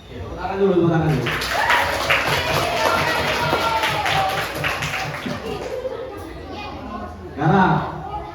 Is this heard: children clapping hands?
yes